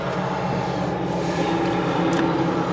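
A 1974 Ford Bronco engine, abandoned for 35 years, roars at high revs after its throttle hangs, holding a loud, steady, rough drone close by with no break.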